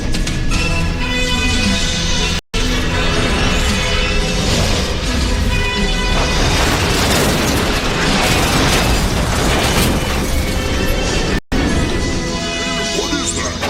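Spaceship weapons fire in a Robotech anime battle, a dense, loud barrage of blasts, crashes and mechanical clatter that runs continuously, broken by two brief dropouts, with music and voices mixed in.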